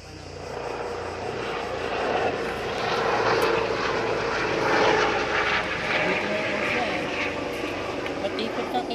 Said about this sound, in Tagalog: Hindi ba yung helicopter?